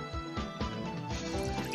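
Six ounces of water is poured into a bowl while mapo tofu is prepared. A short, close, liquid splash and dribble runs for under two seconds with no talk.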